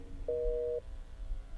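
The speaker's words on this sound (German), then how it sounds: "Ich wollte nur meine Mutter anrufen, aber es war besetzt." A telephone busy signal in the video game Black Mirror 2, a single clean half-second tone that sounds once over quiet low background hum.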